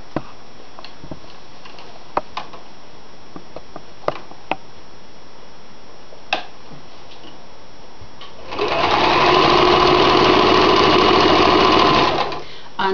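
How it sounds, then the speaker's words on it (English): Sewing machine stitching the long edge and bottom seam of a towel drawstring bag: a few faint ticks and handling clicks, then a loud, steady, close run of about four seconds before stopping. "We're simply going to sew along the long edge and the bottom"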